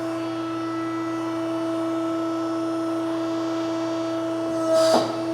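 A hydraulic tube bender extends its pressure die against frame rail tubing, giving a steady tonal hydraulic hum that ends in a short scraping thump.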